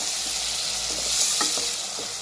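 Chopped tomatoes hiss and sizzle in a hot pan for tomato bath, a steady close frying crackle with a few soft scrapes and stirs of the spoon, no voices over it.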